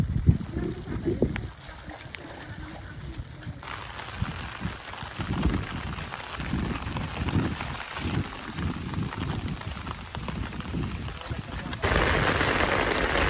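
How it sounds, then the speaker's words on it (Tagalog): Steady heavy rain roars across the whole stretch in Pangasinan, Philippines, with splashy water noise and occasional voices murmuring underneath. "Lakas ng ulan!"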